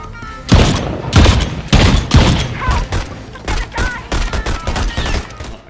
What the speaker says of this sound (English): This automatic shotgun lets you just keep shooting away.